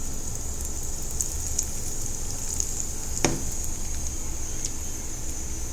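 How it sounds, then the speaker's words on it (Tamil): Mustard seeds and a pinch of asafoetida fry in hot oil in a kadai, giving a close, even sizzle broken by one sharp pop midway and a few lighter ticks, with no talking. "கடுகு பொரியட்டும் கடுகு பொரிஞ்சிடுச்சு"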